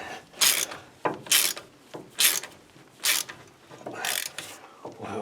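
A ratchet tightens a 13mm bolt on the front suspension of a Ford F150 4x4, producing bursts of rapid clicking strokes about once a second, close and clear with short pauses between pulls.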